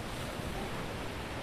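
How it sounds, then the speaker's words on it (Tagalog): Strong wind roars and high-tide waves surge steadily at Boracay beach near Station 1 on a morning walk, a dense, continuous wash of surf and wind buffeting with no voices. "So sobrang lakas ng hangin at high tide pa ngayon sa umaga"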